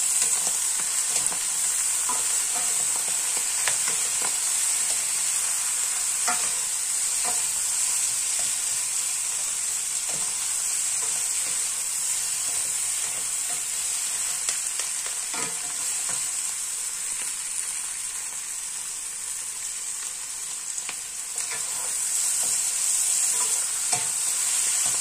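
A pan of food with bean sprouts being stir-fried, a constant bright sizzle with repeated scraping strokes of a spatula throughout, close and fairly loud.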